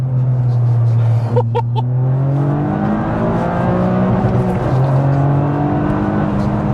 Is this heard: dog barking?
no